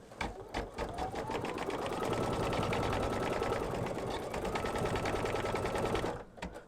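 A Baby Lock or Brother embroidery sewing machine stitching in-the-hoop quilting, a fast steady mechanical whirr with rapid needle clatter running continuously before stopping near the end.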